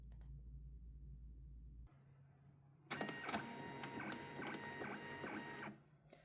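A label printer runs a batch of four cable marking tags. A low motor hum comes first, then a loud, close burst of whirring feed and rapid clicking lasting about three seconds before it stops.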